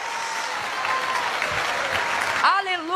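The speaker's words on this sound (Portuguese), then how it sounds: "quando for para aplaudir, vamos fazer com vontade" A church congregation applauds at an evangelical Christian service, a steady dense wash of clapping that cuts off abruptly, followed by a singing or exclaiming voice.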